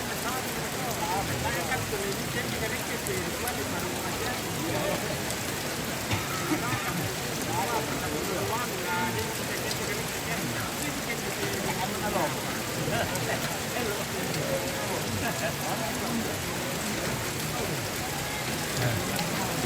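Steady rain pours down in a broad, continuous hiss through the whole stretch, with people talking over it.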